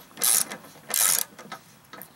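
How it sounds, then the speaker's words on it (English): A ratchet tightens the 9/16 idler pulley bolt on an MTD LT5 riding mower deck, giving two loud, close bursts of rapid clicking and then a few fainter clicks. "We'll put our ratchet on top."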